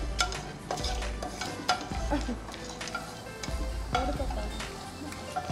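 Chilli and coriander sauté in hot oil, giving a dense, steady sizzle close up with repeated scraping and stirring knocks against the pan throughout.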